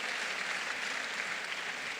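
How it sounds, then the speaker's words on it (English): Steady, dense applause from a conference plenary audience on leadership beyond borders, a continuous broadband wash of many hands clapping without pause for about two seconds, fairly even in loudness. "I think we should clap for ourselves."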